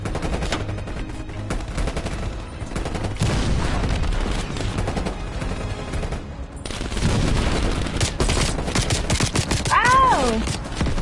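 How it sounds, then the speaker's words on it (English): Gunfire from a shooter in the Call of Duty Cold War campaign: dense, sustained bursts of automatic fire and scattered shots over a game score and background noise, with a brief whistling sound near the end. "Somebody's shooting from up there."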